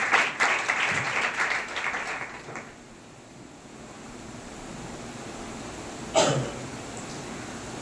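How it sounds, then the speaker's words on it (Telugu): An audience at a church gathering claps to welcome a pastor, a burst of applause for about two seconds that fades into quiet room noise, with a brief sharp sound later. "ఈ సమయంలో అందరూ చప్పట్లు కొట్టి పాస్టర్ మానిల్ గారిని"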